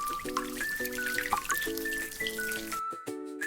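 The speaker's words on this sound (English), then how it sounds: "Drip, drip. The water sprinkled from above." Water sprinkles and drips in a light, continuous trickle under a sustained tonal music bed with repeating chords, cut off briefly near the end before a final drip and chord.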